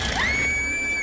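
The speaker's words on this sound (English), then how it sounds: "That's the scream." A woman's long, piercing scream from a Buffy the Vampire Slayer episode holds one high sustained pitch for about a second before breaking off, loud and alone.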